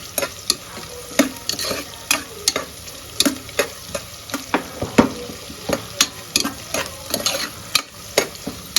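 Onions fry in a pan with a little salt for ghee chicken pulao, sizzling steadily under a rapid series of sharp scrapes and clinks as a spoon stirs them against the metal.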